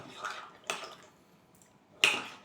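Faint clinks of a spoon stirring cocoa made from milk and a chocolate bar in a cup, three short scrapes spaced apart with soft background noise in between.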